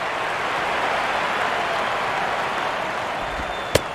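A baseball stadium crowd in MLB 12 The Show, with the Phillies playing, reacts to a foul ball with a steady, loud wash of cheering and clapping, broken near the end by one sharp click.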